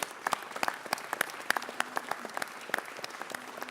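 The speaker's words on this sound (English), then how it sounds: "Let's give our country a round of applause." A round of applause fills a city council chamber, with distinct individual claps spiking irregularly over a steady wash of clapping from a modest crowd, moderately distant and fairly quiet.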